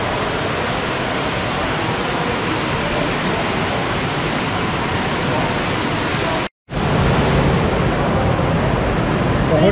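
Bubbling whirlpools in an outdoor thermal spa pool at a hotel in Moravské Toplice, Slovenia, a loud steady rushing hiss of churning water that cuts out briefly for a moment before resuming.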